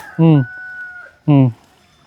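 Chickens give two loud, close, drawn-out clucks about a second apart, with a faint steady tone lingering between them.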